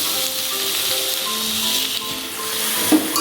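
Spinach and mixed vegetables with turmeric frying in a pan for a Bengali-style vegetarian dish, a soft, steady sizzle and hiss heard close with faint clinking near the end.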